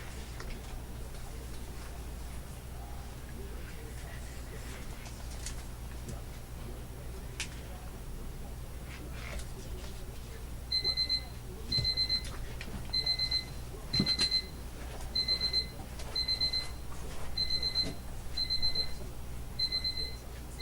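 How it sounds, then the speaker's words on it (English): A medicine alarm goes off in a quiet room, a repeated electronic beeping of short high pulses in an even steady rhythm, starting about halfway through and continuing to the end. "that was my medicine alarm"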